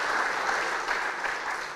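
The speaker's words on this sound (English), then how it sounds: "Spontaneous applause for Andor." An audience at a film festival award ceremony in Munich bursts into spontaneous applause, a dense, even wash of many hands clapping throughout, moderately loud with no voices on top.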